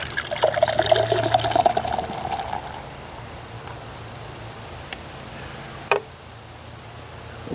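Hoppin Frog Imperial Berliner Weisse beer poured into a glass, a bright fizzy splashing stream for about two seconds that then settles into a soft crackling hiss of foam and bubbles, with one brief clink near the end.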